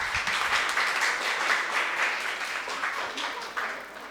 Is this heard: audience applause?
yes